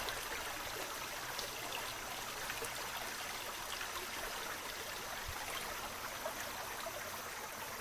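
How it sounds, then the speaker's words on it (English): Steady, continuous rush of a flowing stream, soft and even, with faint trickling and no voices. "That running water."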